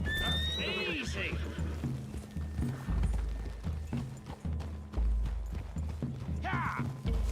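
Horses in Red Dead Redemption 2 whinny loudly and neigh again later while hooves clip-clop through woodland, with characters talking over the hoofbeats.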